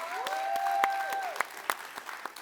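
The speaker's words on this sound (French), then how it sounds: "On peut applaudir!" Scattered hand claps from a small audience on a French talk show, sparse and uneven over roughly two seconds, with a steady whistle-like tone sounding through the first half.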